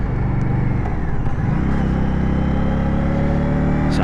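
A 2022 Indian Scout Rogue motorcycle engine drones loudly and close, with its pitch dropping and then settling into a lower, steady rumble as it downshifts while riding.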